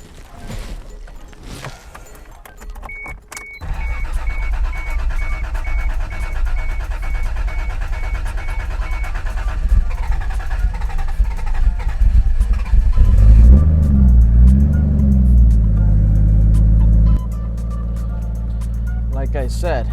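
A Toyota Supra fitted with a dry sump setup starts and runs nearby, its engine rising into loud revs and settling back to a steady drone, with a voice talking over it at times.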